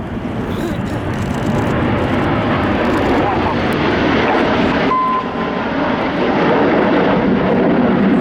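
Red Arrows jets at an air show flying the Cobra manoeuvre, a loud steady roar of jet engines sustained throughout, with a commentator talking over it.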